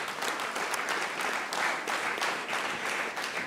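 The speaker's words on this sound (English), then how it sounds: "can you give her a round of applause?" A conference hall audience gives a round of applause, many hands clapping in a steady, fairly dense patter at moderate loudness throughout.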